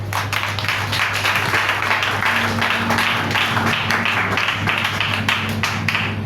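A church congregation claps together in steady, dense applause during a French-language service. The clapping fills the whole stretch at an even, fairly loud level over a low electrical hum.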